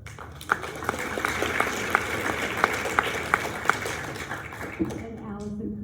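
Steady audience applause at a high school awards ceremony, many hands clapping with a few louder individual claps standing out, fading near the end as a voice begins speaking.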